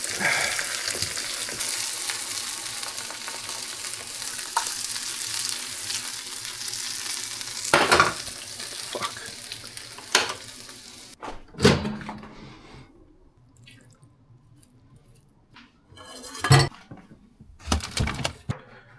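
Food fries in a worn non-stick pan with a loud, continuous sizzle that cuts off partway through, followed by quieter clinks and occasional bursts of frying.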